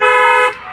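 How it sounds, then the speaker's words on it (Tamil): A single short car horn honk, loud and close, lasting about half a second before cutting off. "ஹாரன் ஒரு முறை."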